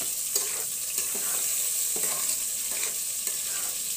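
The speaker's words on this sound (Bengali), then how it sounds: "তো এখন একটু নাড়া দিয়ে দিই" Boal fish curry with lentils is stirred in a frying pan: a steady, close hiss of frying runs throughout, broken by a few scraping strokes of a spoon against the pan at roughly regular intervals.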